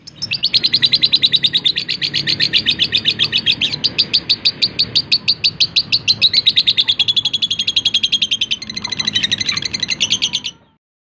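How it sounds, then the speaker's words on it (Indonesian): A lovebird chirps nonstop, rapid, high-pitched and shrill, close by and loud, its chatter running steadily for about ten seconds. "Burung ini memiliki suara yang cukup bagus"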